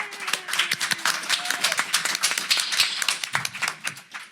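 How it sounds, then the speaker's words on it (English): Audience applause at a comic con panel in New York, dense clapping across the whole stretch with scattered sharp individual claps, fairly close and loud, a few voices faintly mixed in. "Let's give Chris and Aaron Knowles a round of applause."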